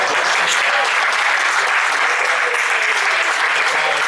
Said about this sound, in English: a round of applause for our street team, Second to None